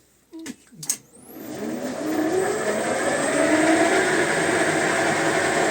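A homemade lathe driven by a 3 kW single-to-three-phase motor at 3000 rpm, with a few clunks before it starts, then spinning up smoothly into a steady, loud whirring hum that holds to the end.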